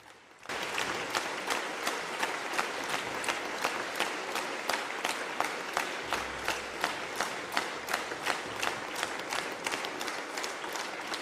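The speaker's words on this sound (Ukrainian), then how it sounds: "Виступ Володимира Зеленського неодноразово обривали гучні оплески" Loud, sustained applause during a speech by Volodymyr Zelensky, with crowd clapping settling into a rhythmic, unified beat, close and full, beginning abruptly after a brief quiet moment.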